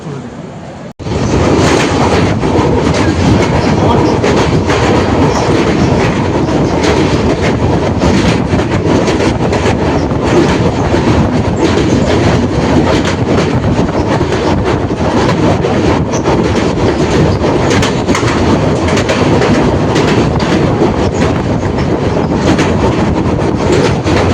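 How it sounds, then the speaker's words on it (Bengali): The Dhauli Express train rolls along the rails near Cuttack with a loud, constant rumble and rushing noise that barely changes from start to finish. "আমাদের ট্রেন হাওড়া থেকে প্রায় 409 কিলোমিটার অতিক্রম করে এখন এসে পৌঁছেছে কটকে"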